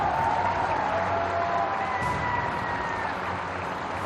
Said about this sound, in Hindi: अभी बजानी है चंबल की ताली।